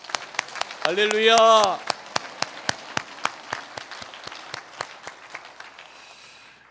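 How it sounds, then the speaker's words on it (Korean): A church congregation at a year-end Sunday worship service claps in a steady, rhythmic beat of distinct hand claps while one voice calls out briefly near the start. The clapping thins toward the end. "우리 그 하나님께 영광의 박수 드리겠습니다."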